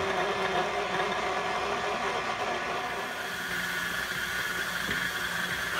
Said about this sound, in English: Add the dough hook attachment, and then you're just gonna mix this for about 2-3 minutes